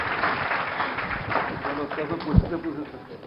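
Audience applause for Chief Minister Bhupesh Baghel at a News18 stage event on Bastar's development, a dense, steady wash of clapping lasting throughout while a voice talks over it.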